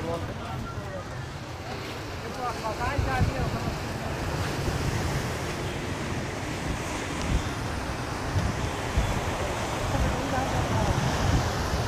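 Sea surf rolling onto Digha beach in West Bengal, a steady broad wash of breaking waves with wind buffeting the microphone throughout.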